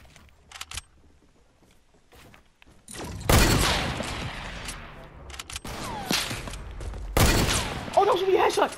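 Bursts of rapid gunfire from the video game Fortnite crack out in loud clusters, separated by quieter gaps with faint clicks, while a player talks excitedly in between.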